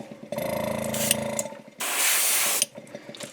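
An airbrush sprays Createx transparent orange paint onto a crawfish fishing lure in two close hissing bursts, the first about a second and a half long and the second shorter and brighter, with faint clicking between them.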